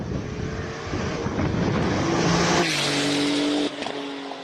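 A Porsche 996 Turbo races up a hill climb course at Speed Classic Cape Town, engine roaring loudly and close, pitch climbing through gears before the sound cuts off sharply.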